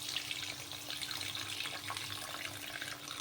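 Water is poured into a pot of pabda and tangra fish curry with vegetables, a faint continuous splashing and trickling throughout, no voices.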